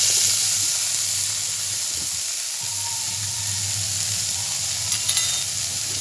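Bitter gourd fries in a pan on an outdoor stove, giving a steady close sizzle and hiss with occasional stirring scrapes and a couple of faint clinks near the end.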